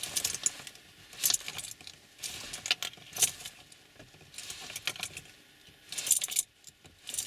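Faint metallic key jangling and scraping in bursts as a car key is worked in a sticking ignition lock of an Opel Zafira B or Astra H without turning, no talking.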